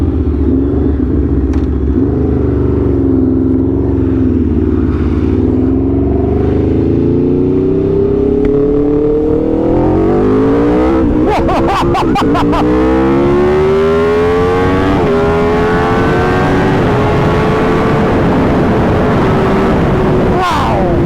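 A 2022 Suzuki Hayabusa and an Aprilia RSV4 race side by side, engines droning loud and steady, then climbing in pitch through repeated rising revs and gear changes, with sharp bursts midway and another high-pitched rise at the end.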